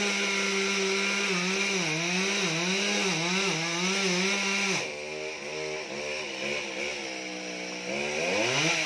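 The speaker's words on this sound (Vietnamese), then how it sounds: "giờ anh ta đứng ở chỗ đó anh ta cưa đó các bạn." A chainsaw cuts down a towering coconut tree over seventy years old and about thirty metres tall in An Hảo. The engine drones continuously and loudly, its pitch rising and falling as it revs and bites, then dips before surging again.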